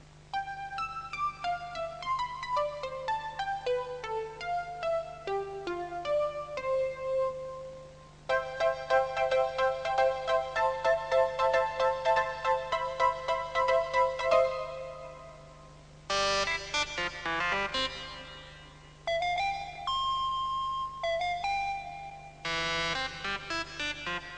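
Synthesizer tones at the BBC Radiophonic Workshop play the same short melodic phrase again and again, each pass in a different tone colour, in bright electronic runs over a steady low hum, with no voices.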